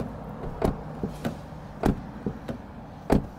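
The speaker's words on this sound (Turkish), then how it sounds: "Size bir kapı sesi dinleteyim hemen." Car doors on a 2024 Honda ZR-V 2.0 hybrid are shut several times in succession, giving a series of close, solid thuds with short gaps between them.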